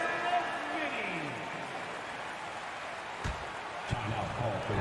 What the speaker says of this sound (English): Another round of applause for your Cleveland Cavs mini.